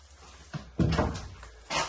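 A door slams shut indoors in a building near a newsroom hit by strikes, one loud close thud with some rattle, followed by quieter knocks and a second bump at the end.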